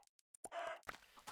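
Minecraft chickens give several short, quiet clucks and squawks in quick succession, faint and clipped, with a few tiny clicks among them.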